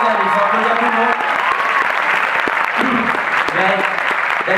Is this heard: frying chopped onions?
no